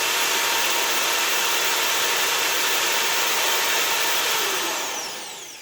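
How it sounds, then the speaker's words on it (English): A power drill boring steadily into a car ball joint, a continuous loud high whine that holds even throughout, then eases off and drops in pitch near the end as the bit sinks through. "once we hit that cavity, you can feel your drill kind of sink through"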